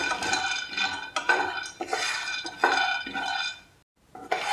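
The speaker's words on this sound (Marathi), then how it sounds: "हे तीळ भाजून झालेले आहेत हे मी दुसऱ्या बाउलमध्ये ट्रान्सफर करून घेते" Roasted sesame seeds being moved into another bowl, a spoon scraping and clinking against the dishes in quick bursts with short pauses between them, close and fairly loud, with no speech.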